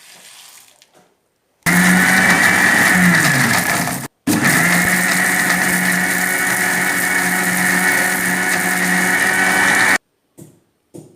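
A kitchen mixer grinder runs loud and steady, grinding coriander seeds and cumin with water for a Tulu marwai recipe; it whirs in two long bursts split by a brief stop, with quiet gaps before and after.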